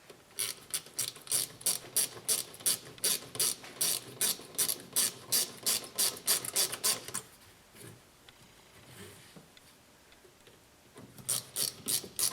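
A hand ratchet works in quick repeated bursts of clicking while tightening bolts on the fuel filler neck of a Chevrolet Tahoe/Suburban. It pauses briefly midway and then resumes at close range, with no talking.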